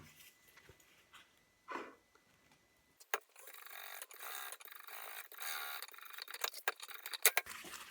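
Home sewing machine stitching bias binding around a fabric face mask, a steady mechanical whirring run after a few soft handling taps and brief pauses, ending with short louder clicks.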